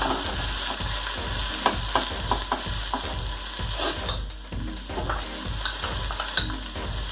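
Spinach and tomato cook in a sizzling pan while a spoon stirs in a steady, repeated rhythm of scrapes and clacks over the constant frying hiss.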